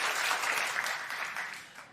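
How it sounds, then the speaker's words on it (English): A studio or live audience claps steadily, a dense burst of applause from many hands that fills the whole moment without any talking over it. "Clap if you know her."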